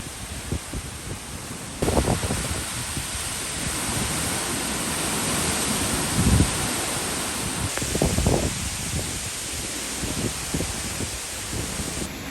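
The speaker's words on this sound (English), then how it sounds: "I'm seeing gusts of about 70 miles an hour, and I just got hit by one" Strong hurricane wind gusts of about 70 miles an hour buffet the microphone in heavy, rushing bursts that surge and fade, with sharp blasts hitting around the middle and end.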